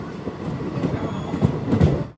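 A train rumbles steadily along the line from Jaynagar across the border into Nepal, with low wheel and carriage noise throughout and a few louder thumps near the end before it cuts off abruptly.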